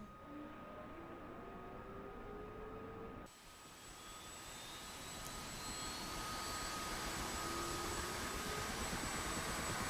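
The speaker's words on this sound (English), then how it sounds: "We let go. And we'll see the rotor start." A helicopter rotor spools up in the DCS World flight simulator, with a dull engine drone and turbine whine that shift abruptly, then steadily rise in pitch and loudness.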